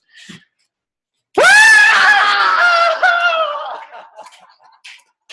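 A single long, loud, joyful scream rings out close by after a short pause, holding strong for about two seconds before trailing off into a wavering fade.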